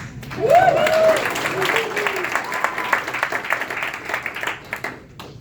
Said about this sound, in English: can I hear a little bit more applause